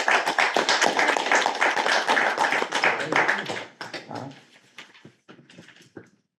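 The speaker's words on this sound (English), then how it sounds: "I wanted to give him some applause from us." Applause at a town select board meeting, fairly loud and steady at first, then thinning to a few scattered claps before stopping.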